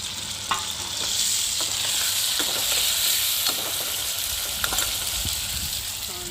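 Onions, tomatoes and chillies cook in a pan on an outdoor chulha under a tree: a continuous bright sizzle broken by occasional scraping and tapping stir sounds, close and fairly loud.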